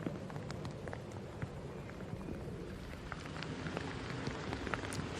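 Heavy rain pours steadily over a golf course at a women's professional tournament round, a dense continuous patter with scattered sharper drops and no one speaking.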